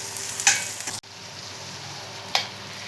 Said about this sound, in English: Meanwhile, our capsicum is also frying on this side.